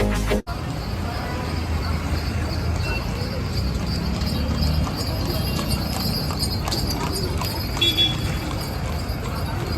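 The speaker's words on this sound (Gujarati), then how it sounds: "ઘોડાગાડી છે ને ભાઈ, આ મને લાગે છે ખાલી સાંજના આવે છે" Hooves of a horse-drawn carriage clip-clop along a street in Shirdi, a steady rhythmic clopping under a continuous background of people talking and street noise.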